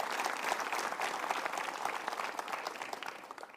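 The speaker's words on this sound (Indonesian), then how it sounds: "Kita berikan tepuk tangan dulu" An audience at a motivational talk breaks into applause, a dense, crackling wash of many hands clapping that stays steady and fairly loud from start to finish, with faint voices beneath.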